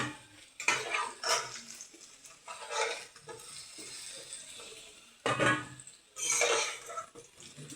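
A spatula scrapes and clanks against a pan while fried potatoes are stirred, coming in several loud bursts of metal scraping separated by quieter stretches of soft sizzling.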